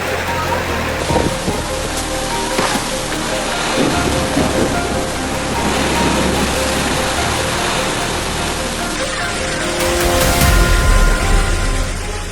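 Heavy rain with hail pours down during a storm with strong wind in Bandung, giving a loud, dense continuous roar with deep rumbling gusts and a louder burst near the end.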